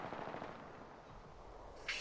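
Automatic gunfire in the video game Apex Legends, a rapid stream of shots fairly loud throughout, ending in a sharper burst.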